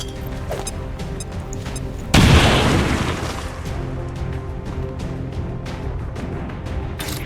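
A grenade goes off in the turn-based strategy game XCOM 2: a single loud, heavy boom bursts out over a low game soundscape and rolls away over about a second before the ambient bed returns.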